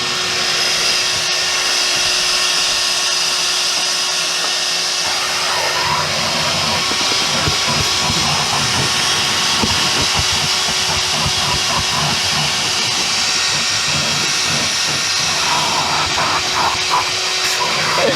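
A Ryobi One+ cordless vacuum runs steadily with a loud, continuous whooshing hiss, sucking up debris without a break and with no voices over it.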